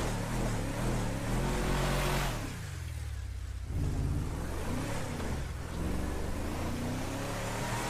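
A Volkswagen Amarok pickup's engine revving hard in a GTA roleplay game, a steady loud drone that dips briefly in the middle before climbing again, continuous and close with no voices.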